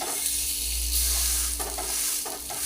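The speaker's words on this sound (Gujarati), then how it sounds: "હવે એ જ રીતે આપણે બીજી બ્રેડને પણ શેકી લઈશું." Suji bread topped with cheese toasting in a pan, with a steady close sizzle and frying hiss running throughout, broken by a few soft scraping stirs.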